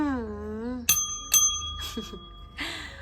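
A small bell gives two bright, clear rings close by that fade quickly, with softer clinks after them. Someone speaks before and after the rings.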